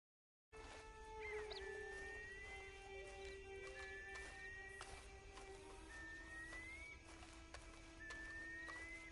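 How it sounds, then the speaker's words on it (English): Horse hooves clip-clop in the video game Red Dead Online, a steady walking rhythm of soft thuds under ambient wilderness sound with occasional whinny-like tones and birdlike chirps. "Then you better get on this horse."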